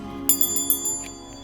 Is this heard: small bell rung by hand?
yes